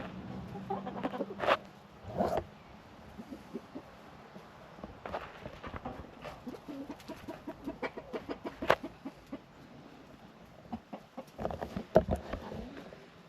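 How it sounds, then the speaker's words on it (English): Chickens clucking near a barn on a farm, a series of short irregular clucks and squawks, some close and louder, over a quiet background with occasional soft knocks. "Chickens like pumpkin."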